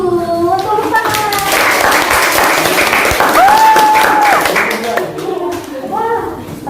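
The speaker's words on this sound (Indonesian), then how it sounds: "Tepuk tangan." Applause and clapping from an audience at a broadcast quiz-style event, a dense sustained burst of many hands lasting several seconds, with voices speaking over it near the start and end.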